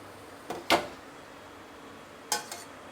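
Mushrooms and broccoli are stirred in a metal pot, heard as a few sharp clanks of a utensil against the pot, spaced apart in short clusters against a quiet background.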